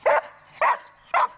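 A search and rescue dog barks three times, each bark a loud, close burst spaced about half a second apart with quiet gaps between, and no voices.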